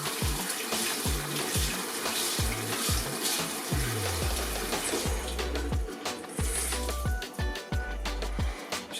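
Tap water runs into a bowl while rice is washed, splashing and gurgling steadily nearby with repeated pouring surges.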